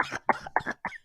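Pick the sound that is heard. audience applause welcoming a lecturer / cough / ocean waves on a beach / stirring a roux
cough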